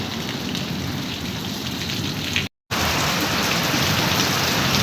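Heavy rain falling on a village, a loud, dense, unbroken downpour that drops out for a split second midway and then carries on at full strength, with no voices.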